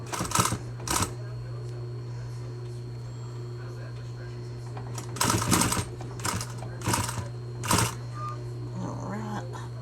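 Sewing machine back-tacking the seams of a plush toy, several short bursts of stitching separated by pauses, close and clear over a steady electrical hum.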